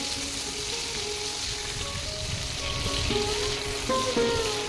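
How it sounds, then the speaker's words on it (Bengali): Chopped tomatoes and green chillies fry in hot oil with a dense, continuous sizzle that swells slightly toward the end, steady and close with no voices. "টমেটো কুচিগুলো তেলের মধ্যে একটু ভেজে নিচ্ছি।"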